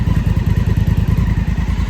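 Honda CRF1000L Africa Twin motorcycle engine running steadily close by, a loud low rhythmic thrum with even firing pulses and no voices over it.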